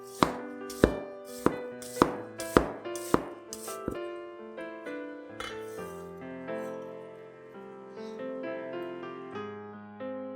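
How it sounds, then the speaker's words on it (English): A knife slices half an onion thinly on a board: seven crisp, evenly spaced chops ring out up close, followed by softer scattered knocks and tones as the cutting slows. "We'll also need half an onion. Slice it thinly."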